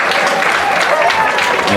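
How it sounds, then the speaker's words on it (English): Crowd applause at a high school football game between USJ and Fayette Academy, greeting the club banners and their presenters; a steady, dense wash of clapping from many hands, held evenly throughout. "Round of applause for our club banners"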